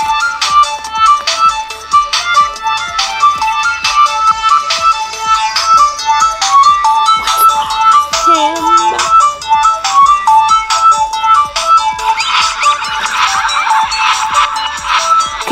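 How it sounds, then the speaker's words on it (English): A mobile phone ringtone plays a bright, repeating electronic melody for about fifteen seconds. It is loud and close, with no voices over it. "Oh, sorry, that's like my phone."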